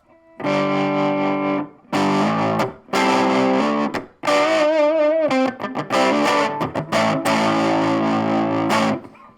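Electric guitar on its front pickup, heavily distorted and run through effects with a chorus-like shimmer, playing sustained chords and bends in several loud, close phrases separated by brief pauses, with no voice.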